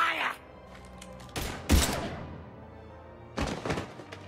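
Mass Effect gunfire sounds in a few sharp bursts: a thudding volley, a louder blast, then another cluster of shots, with pauses of quieter sound between them.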